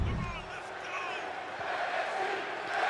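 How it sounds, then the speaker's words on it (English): An arena crowd in the WWE 2K23 wrestling game roars and cheers in a broad, steady wash of noise, loud and sustained throughout, with no clear voice above it. "Can hear the crowd here excited for the return of NXT"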